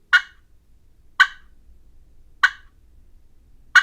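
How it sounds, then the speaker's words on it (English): Four single sharp clucks from a turkey pot call, evenly spaced about a second apart, crisp and close, with quiet between them. "To make the clucking sound of a hen on a pot call"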